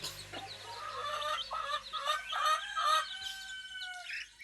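Several chickens of mixed breeds, including a Silky, cluck and squawk in a small coop, a steady nearby chatter of overlapping calls with short cackles rising and falling.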